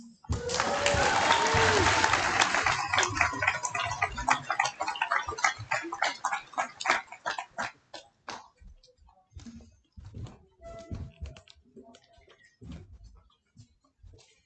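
A graduation ceremony crowd erupts in loud applause and cheering that gradually thins into scattered clapping, with a few voices heard as it fades.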